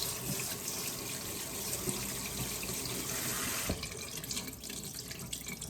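Cold water runs steadily from a kitchen tap over butter curds in a colander, a continuous close hiss and splash in the sink with a slight shift in flow partway through.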